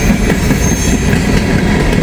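Empty freight train cars rumble past close by in a loud, continuous roar, with dense low rumbling and faint clatter filling the whole stretch.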